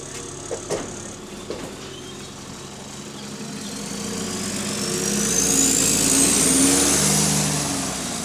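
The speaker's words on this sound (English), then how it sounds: "That's got a nice exhaust, you know." A car engine rumbles and gradually builds in revs, growing louder toward the end, with a few sharp knocks early on.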